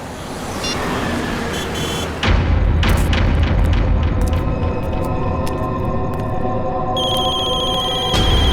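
A telephone rings insistently with many incoming calls, rapid repeated electronic ring tones over a dense dramatic background rumble, with a heavy low boom entering partway through, without any speech.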